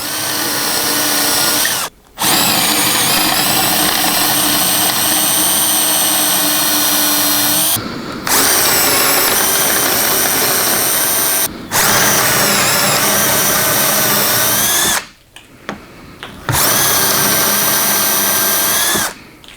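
A power drill bores dowel holes freehand into wood for a bench, whining loud and close in long sustained runs broken by several brief pauses.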